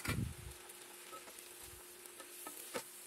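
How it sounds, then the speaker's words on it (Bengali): Chopped onions and spices frying for vegetable khichuri, a soft steady sizzle with stirring scrapes from a spoon in the pan, quiet and close, with no talk. "একটু ব্রাউন কালার হওয়া পর্যন্ত ভাজতে হবে।"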